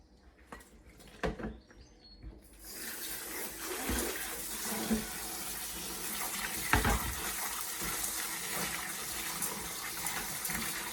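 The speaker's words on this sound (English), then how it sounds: "you need to give that a good rinse" Tap water running steadily to rinse salted vegetables for kimchi in a kitchen sink, starting after a few quiet clinks and splashes, then a continuous broad rushing stream with occasional louder splashes, no talk.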